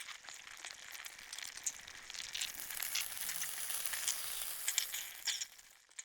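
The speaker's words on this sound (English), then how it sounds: "If you hear a sizzle or popping sound," Soft crackling sizzle with scattered faint pops from ice melting in a refrigerator defrost cycle, a close, quiet hiss that rises and falls irregularly for several seconds.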